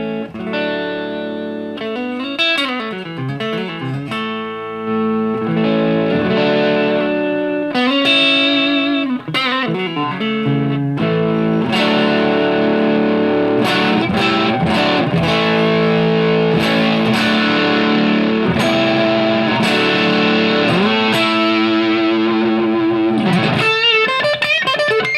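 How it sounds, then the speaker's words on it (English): Neck humbucker pickup of a PRS CE22 electric guitar played through distortion and effects, a loud, sustained riff of chords and single notes, thick and saturated with some reverb. "Neck pickup, again, the humbucker sounds like this."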